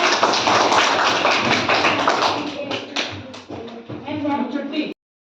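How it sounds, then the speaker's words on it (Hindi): A group of schoolchildren claps their hands during a No Bag Day classroom activity, a dense, steady patter of many claps that runs close and loud for about five seconds before cutting off abruptly. "ताली बजा दो"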